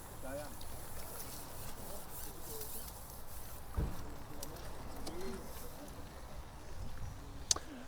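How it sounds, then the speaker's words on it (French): Birds call and coo outdoors in a calm fishing spot by the water, faint and intermittent against steady ambient background, with a brief knock near the middle. "On entend les oiseaux"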